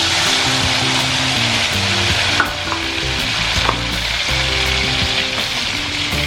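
Vegetables such as string beans, bitter melon, okra and sweet potato are added to a hot frying pan with bagoong, giving a steady loud sizzle with stirring clatter and short scraping bursts throughout, no talk.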